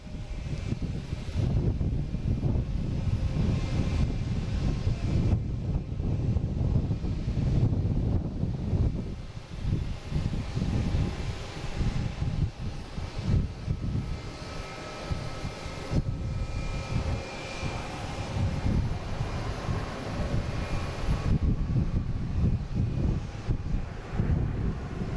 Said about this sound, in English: Our next to arrive is a Delta coming from Denver,